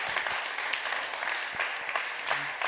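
Studio audience applauding on a French television game show, a steady dense patter of many hands clapping at moderate distance, continuous throughout with small swells.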